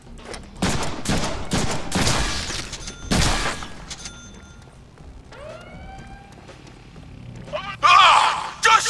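Gunfire from the Deadpool video game comes in rapid bursts of shots, loud and close, alongside siren-like tones and chaotic in-game clatter.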